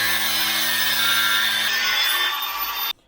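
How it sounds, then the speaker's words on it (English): A power tool cuts a small piece to fit a closure plug bolt during a Land Rover Discovery TDV6 oil leak repair, giving a steady, close, high whining rasp that stops abruptly after about three seconds. "So we cut a piece just long enough to stick it into the bolt"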